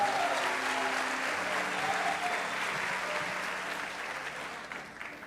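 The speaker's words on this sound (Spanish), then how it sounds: "Dele un aplauso al Señor por eso." A church congregation applauding during a sermon, a dense, steady wash of clapping filling the room that holds strong for several seconds and then slowly thins toward the end.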